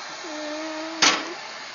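A small gas torch, set to a low flame for heating heat-shrink tubing on car battery wiring, lets out a short, sudden hissing burst that fades quickly after a steady low hum, with no voices.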